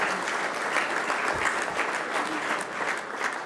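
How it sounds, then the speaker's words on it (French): An audience at the Prix Edgar Faure ceremony applauds steadily, a dense, even patter of many hands clapping at moderate volume. "Je crois qu'on peut l'applaudir"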